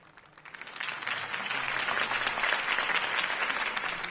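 A political rally crowd in Batman: The Telltale Series breaks into applause, swelling from quiet to a dense, sustained roar of clapping that holds steady near the listener, with no clear talking.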